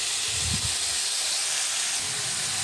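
Slices of bread frying on a hot tawa give a steady, bright sizzling hiss that stays even throughout, close and moderately loud, with a brief low clunk near the start.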